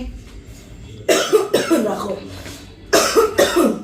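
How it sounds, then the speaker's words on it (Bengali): Several harsh coughing bursts from someone cooking chow mein with soy sauce in a small wok as spice fumes rise, coming in two clusters around a short pause, loud and close. "কেমন কাশি উঠতেছে"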